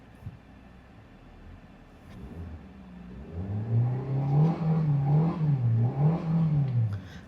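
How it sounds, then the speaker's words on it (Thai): A used 2023 Suzuki Swift 1.2 GL with about 40,000 km is revved: a quiet idle, then from roughly three seconds the engine climbs and swells through several repeated rev rises and falls, close and fairly loud, with no talking. "ผมเร่งเครื่องยนต์ให้ฟังเล็กน้อยครับ"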